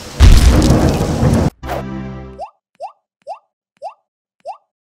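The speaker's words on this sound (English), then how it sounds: "let's make it interesting and go to a thunderstorm" A thunderstorm effect from an iPhone weather app opens with a loud, broad rumbling crash that cuts off abruptly, followed by a fading tail and a run of sharp, evenly spaced plopping drips.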